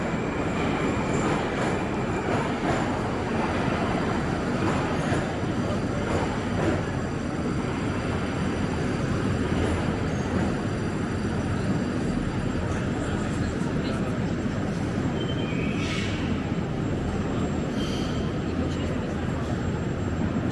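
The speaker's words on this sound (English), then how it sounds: "Just getting out of the metro." Moscow metro train rumbling steadily through a station, a continuous loud rolling drone with faint wheel squeal, while people talk in the background.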